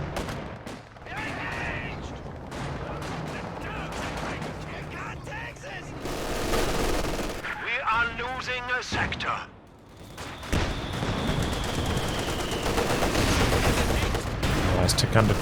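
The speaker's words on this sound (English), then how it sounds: "T-34 rolling up." Battle noise from the real-time strategy game Company of Heroes 2, with dense rattling gunfire, machine-gun bursts and heavy artillery booms rolling continuously under a busy mix.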